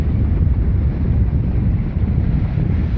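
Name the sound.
wind over the lake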